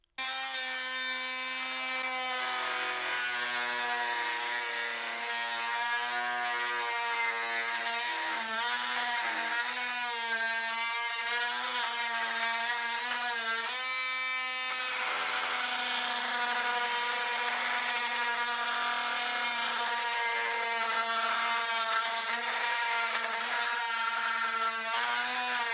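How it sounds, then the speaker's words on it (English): An oscillating cutoff tool buzzes steadily as it cuts through PVC pipe to make a bird feeder, a loud, high, harmonic whine that shifts pitch as the blade bites and eases, with no talking. "That is something I like with these oscillating cutoff tools is you can get in and do stuff you can't because they cut nice and straight"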